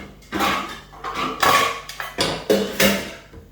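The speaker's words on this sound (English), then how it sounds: "I'm gonna put my pot on" A metal cooking pot for spaghetti bolognese is set on a stovetop and shifted about, giving several loud, close clanks and scrapes in uneven bursts, with no talk.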